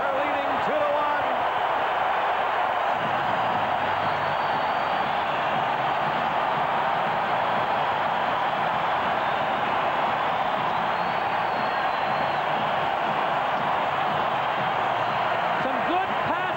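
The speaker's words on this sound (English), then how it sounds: "And the Toronto Maple Leafs got the crowd on their feet." A 1994 playoff hockey arena crowd roaring after a Toronto Maple Leafs goal against San Jose, a loud, sustained wall of cheering with a broadcast commentator talking over it.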